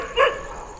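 A single short dog bark rings out near the start, close and fairly loud, then fades into a low hum inside an abandoned house.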